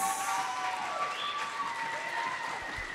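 Wedding guests applauding the new couple at a reception, steady clapping at a moderate distance with faint music and chatter mixed in.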